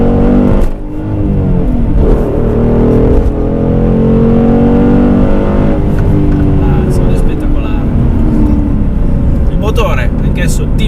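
A Dodge Challenger SRT 6.1 with a large naturally aspirated Hemi V8 and manual gearbox, its engine note rising and falling through revs close by, with someone talking continuously over the rumble.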